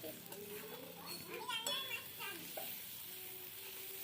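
Spices sautéed in oil in a pan for a Bengali kosha chicken dish, a steady sizzle with stirring, under children's voices and chatter nearby.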